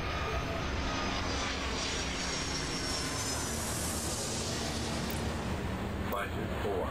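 A jet aircraft takes off in the airport game Airport Madness World Edition, its steady, loud engine roar filling the scene as the pitch sweeps upward, with a voice also heard.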